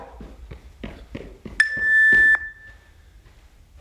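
A workout timer gives a short electronic beep once, loud and clear, after a series of rhythmic thumps like footsteps or jumps during a home full-body workout.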